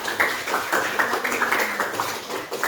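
A classroom of students claps together in a steady run of overlapping hand claps. The clapping is moderately loud and sustained, with no talk over it.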